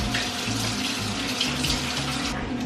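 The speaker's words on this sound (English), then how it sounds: "Okay, apples are washed." Running tap water pours steadily over Granny Smith apples being washed in a kitchen sink, a constant close splashing hiss with no talk.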